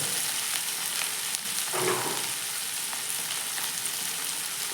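Potato curry frying in a pan and being stirred gives a steady, close sizzle with faint scraping, plus a brief louder burst about midway; no one speaks.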